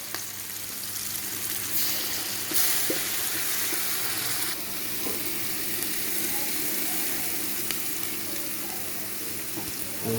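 Masala with tomato paste sizzles steadily in a pan as a base for fish curry, a continuous loud hiss and crackle with occasional clinks of stirring, no talking.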